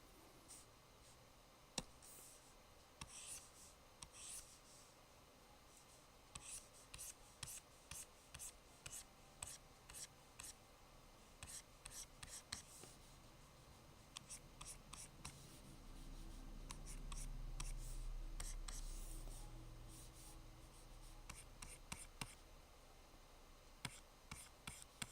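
A pencil sketches on paper in quick, quiet scratchy strokes that come in short bursts with pauses between them, close up and faint against a low background hum.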